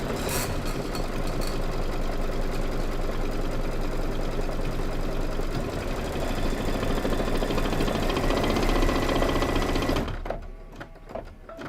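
A sewing machine stitches red thread in a rapid, steady mechanical rattle, close and continuous for about ten seconds before it stops abruptly.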